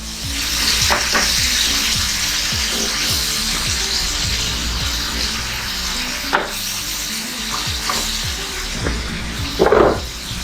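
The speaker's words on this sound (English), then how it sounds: "So we're going to cook this shrimp here" Shrimp sizzles in a hot pan while cooking for Trinidad-style shrimp wraps, a steady loud crackling fry throughout with a few soft clinks of a utensil near the end.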